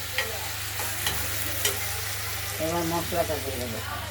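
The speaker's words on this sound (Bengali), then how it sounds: "আমরা চিংড়িগুলো লাউতে দিয়ে দিলাম আর নাড়াচাড়া করে দিলাম" Prawns being stirred into chopped bottle gourd in a frying pan, giving a soft, continuous sizzle with occasional scraping stirs. A voice is heard briefly near the end.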